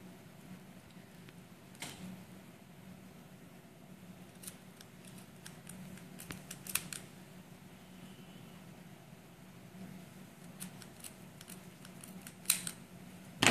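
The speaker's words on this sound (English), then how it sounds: "I'll take the scissors again. Just cut the part of the lace so that I can get this area." Scissors snipping through lace during a home science sewing practical, scattered sharp clicks and cuts spaced irregularly over a quiet room tone, fairly faint and close.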